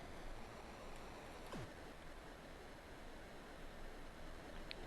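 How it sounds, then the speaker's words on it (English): Constant rushing water fills the background of a Berenstain Bears extreme sports tobogganing video game, a steady broadband hiss like static, with a brief descending tone partway through and no talking. "it's just static of constant rushing water"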